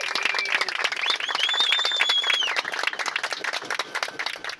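Airline passengers applaud as a Gol inaugural flight lands in Santa Maria, with steady, dense clapping filling the cabin throughout and a faint high tone running behind it.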